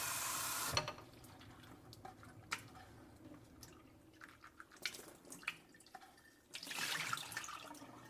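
Tap water runs and drips in a sink while cilantro and green onion are rinsed, with bursts of splashing at the start and end and softer trickles and drops in between, close and fairly quiet.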